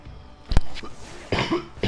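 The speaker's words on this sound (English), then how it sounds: "Oh, I was coughing." A person coughs sharply once, followed moments later by a couple of rougher coughs and throat-clearing sounds, close and fairly loud, during a Halo 3 campaign play session.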